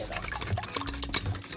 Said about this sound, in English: I'm pouring in the egg in the bowl and I'm gonna beat that. I whisk it.